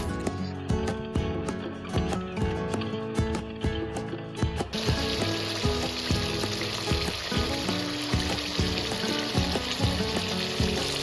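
Chicken karahi frying in a pan while being stirred, a steady sizzle under repeated scraping and clinking strokes of a utensil, with the sizzle swelling louder partway through.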